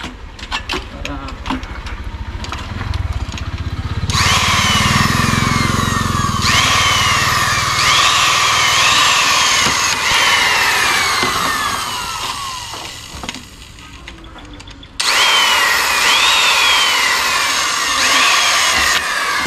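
A power drill works during construction of a house, its motor whining up in pitch over and over in long near bursts, with a short pause midway and a sharp restart near the end, while faint voices sit underneath.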